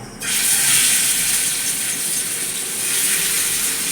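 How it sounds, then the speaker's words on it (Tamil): Freshly caught fish frying in hot oil in a pan, a loud steady hiss and sizzle starting abruptly and continuing unbroken. "காஞ்சித்து கல்லியை நம்ம மீனை வறுத்துக்கலாம்"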